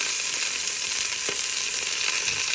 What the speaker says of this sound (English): we're browning our salsiccia now.